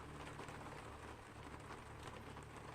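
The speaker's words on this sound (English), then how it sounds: "Oh, this rain. It sounds so cool." Steady rain pours onto a surface in a constant, close, hissing patter with no letup and no voices.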